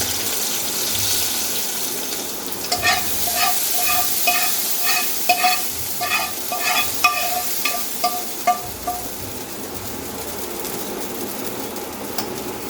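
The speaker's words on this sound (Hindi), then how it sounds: "बस चूल्हा बंद करेंगे हम और इसके ऊपर लगा देते हैं भगार" A bhagar tempering sizzles as it is poured over potato raita, a broad hiss that swells up, with a run of small crackles and pops in the middle before it settles back to a soft fizz.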